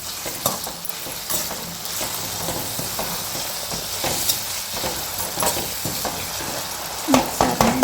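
Food being mixed in a hot pan after pink salt goes in, a steady sizzle and hiss under repeated scraping and stirring strokes of a utensil, close and fairly loud, without speech.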